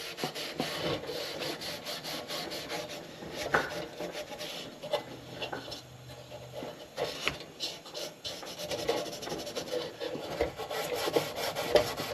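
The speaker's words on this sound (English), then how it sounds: "give the whole thing a quick rub down with some WD-40" Continuous scrubbing and rasping as a century-old C.T. Ham top-lift lantern is rubbed down with WD-40, steady and close with small sharp scrapes throughout, no voices.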